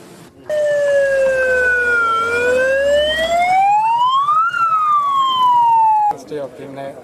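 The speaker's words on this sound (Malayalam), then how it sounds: "വണ്ടി വണ്ടി ആംബുലൻസ് ആംബുലൻസ്" A loud wailing ambulance siren during a tsunami mock drill sweeps slowly down, then up and back down in long glides, with a brief rapid warble, dominating before cutting off abruptly.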